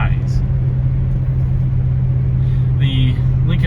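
A 1969 Cadillac Eldorado cruises through twisty corners, its engine a steady low rumble with road and wind noise throughout, a brief swell near the end.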